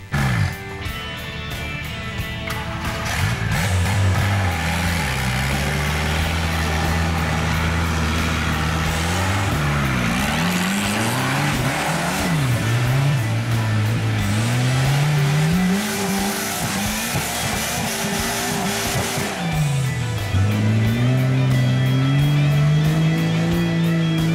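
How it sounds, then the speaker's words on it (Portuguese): Several off-road jeeps grind up a steep trail hill at a jeep enthusiasts' gathering in Joinville, engines loud and close, revving and rising and falling in pitch as they climb one after another, with no talk over them. "Gravei ainda os mesmos três carros na subida subsequente."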